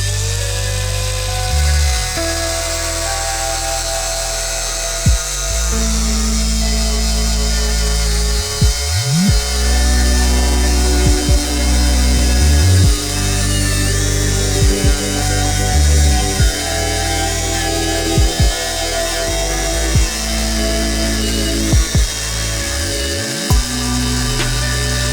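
A Parkside PWSAP 20 Li C3 cordless angle grinder cuts through a solid steel suspension ball joint. Its loud, high, tonal whine holds steady for about 25 seconds, with repeated brief dips and surges as the disc bites into the metal.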